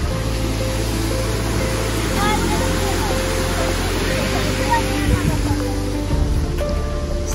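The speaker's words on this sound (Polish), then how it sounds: "spływa sobie strumień" Water flows steadily nearby, a continuous rushing wash with a faint low hum underneath and occasional soft splashes.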